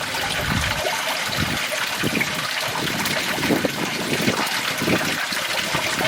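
Water from a garden waterfall pours steadily over a stainless steel spillway, a continuous close splashing rush with a bubbling, trickling texture throughout.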